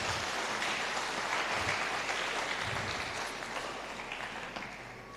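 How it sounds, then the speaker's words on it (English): Audience applause at a celebration party at PJ Civic Centre, a steady wash of many hands clapping that fills the room and fades slightly toward the end, with no talk over it. "Maybe we give ourselves a big clap for this."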